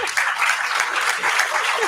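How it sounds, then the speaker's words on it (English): An audience at an electricity symposium gives a standing ovation, with dense, even clapping filling the room. "ask the audience to be kind enough to stand up, give them a standing ovation, clap for them until they resume their seats"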